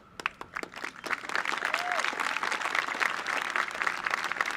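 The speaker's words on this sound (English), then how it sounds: "You saw many of our kids clap right away" Middle school eighth-grade students at a 2021 graduation ceremony applaud, a steady mass of clapping that builds quickly and holds at a moderate level, with a brief faint whistle partway through.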